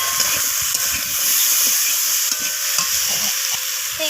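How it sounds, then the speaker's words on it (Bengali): Eggplant pieces sautéing in mustard oil in a pan, an even hiss of frying that runs unbroken, with soft scraping and tapping of a spoon underneath, close and steady. "তো বেগুনগুলোকে দিয়ে আমি আবারও কষিয়ে নিচ্ছি সব কিছু।"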